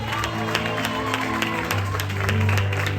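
Church congregation applauding and cheering for Jesus during a French-language worship service, a steady wash of clapping and crowd noise with voices mixed in throughout.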